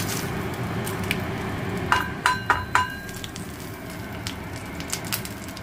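Whole spices, bay leaves, dried red chillies, cumin, cardamom, cinnamon and cloves, crackle into hot oil in a pan, a faint steady sizzle with a few sharp clinks and taps mixed in.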